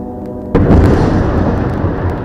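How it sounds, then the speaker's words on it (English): A sudden loud blast from nearby wartime fighting in Gaza, followed by a sustained, heavy rumble and crackling noise that fills the rest of the moment. "Now the gunshots are getting closer,"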